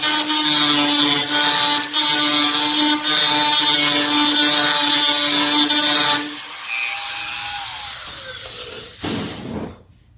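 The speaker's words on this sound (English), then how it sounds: "Okay, drilled the mounting holes." A power drill boring mounting holes while upgrading a sandblaster, loud and close with a steady whining drone for about six seconds before it winds down, followed by softer scraping and handling sounds.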